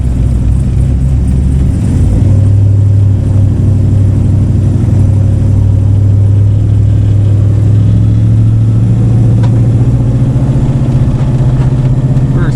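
A 2006 Monte Carlo with an LS V8 swap and a front- to rear-wheel-drive conversion revs loud and close. A deep, steady engine drone holds throughout and rises as it accelerates, with no talking.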